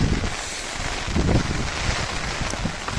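Strong wind and rain over a flooded road between Bhagamandala and Madikeri in Karnataka, a loud continuous roar of wind buffeting the microphone.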